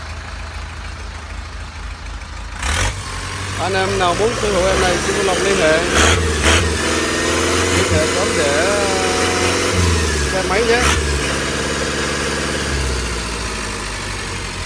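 A Yanmar 4LM marine diesel from Japan, rated 80 hp at 3000 rpm and built for cargo and fast boats, runs at a steady idle. Its low, even rumble continues under someone talking.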